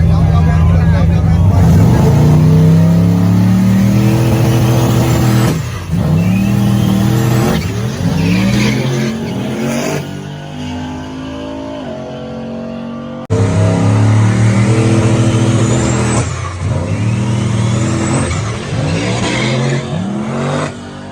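A turbocharged drag car at a no-prep drag strip, its engine loud and close, revving up and down in repeated surges with a pause midway, while someone talks over it.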